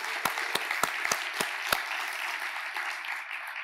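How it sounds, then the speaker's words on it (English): Conference audience applause with several sharp, distinct claps standing out early, then settling into steadier, softer clapping that continues to the end. "I think we should give her another round of applause"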